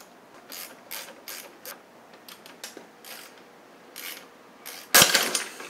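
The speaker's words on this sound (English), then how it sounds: "Now I'm going to undo the top bolt." Ratchet clicking as it undoes the 17 mm top bolt on a Yamaha DT175 dual-sport fork, a few short bursts of rapid pawl clicks with pauses between, then a louder clunk near the end.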